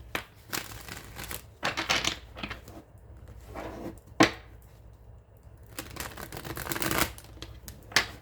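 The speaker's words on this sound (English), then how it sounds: "Cards don't even want to shuffle" Repeated rapid flutters and riffles of cards being shuffled, in uneven bursts separated by quieter gaps, close and crisp.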